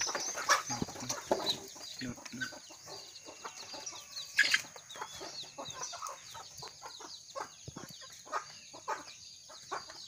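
Chicks cluck and peep while feeding, in a busy, close flock sound of scattered short calls and soft pecking noises, with occasional voices in the background.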